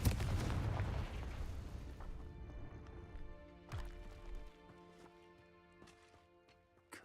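A Confringo spell blast in Hogwarts Legacy erupts as a loud, booming explosion at the start, then rolls into a fading rumble with scattered crackles and small impacts as it dies away.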